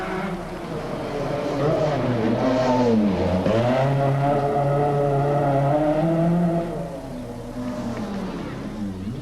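An Audi Sport Quattro rally car with a 460 brake horsepower engine accelerates hard, its loud engine note rising and falling through the gears over several seconds before easing off.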